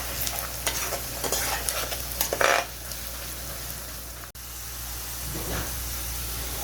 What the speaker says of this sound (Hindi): इन दोनों को हम लोग ब्राउन होने तक फ्राई करेंगे